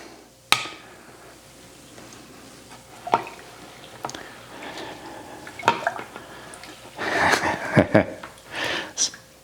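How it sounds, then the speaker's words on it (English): Sake rice porridge mixture being stirred, giving wet squelching slops and a few sharp utensil clinks against the vessel, irregular and close, loudest near the end. "Now let's give that a little bit of a stir, just to make sure that we distribute everything."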